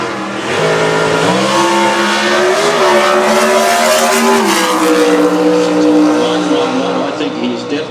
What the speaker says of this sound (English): I think he's definitely hit it hard on the start line